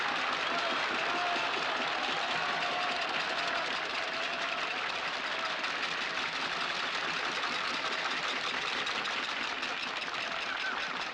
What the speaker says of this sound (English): Applause is good to hear anywhere, but nowhere in the world so good as in Vienna.